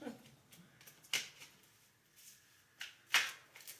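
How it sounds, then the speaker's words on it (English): Tarot cards are shuffled in two short, crisp riffling bursts, separated by quiet stretches, up close and fairly soft. "I can't shuffle no more."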